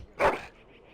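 A puppy in Dragon Age: Origins lets out a single sharp, loud bark up close, followed by a faint quiet tail of game ambience.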